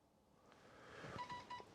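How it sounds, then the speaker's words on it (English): A phone in a parked 2019 Mitsubishi L200 outside a garage gives a short run of faint electronic beeps signalling an incoming message, fairly quiet against a low background. "So there you heard my phone beep."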